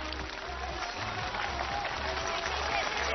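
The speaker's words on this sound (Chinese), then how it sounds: "掌声祝贺成都队拿到5分" A large studio audience claps steadily for the Chengdu team at a televised choir competition final, a brief, full burst of sustained applause with a murmur of crowd noise beneath it.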